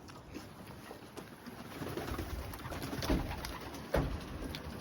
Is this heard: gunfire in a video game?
no